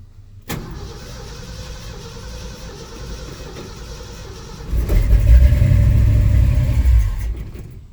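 A 1968 Ford F100 pickup with a swapped-in 360 V8 engine, running on fuel from a jerry can, cranks steadily for several seconds, then catches and roars up loud and close before settling.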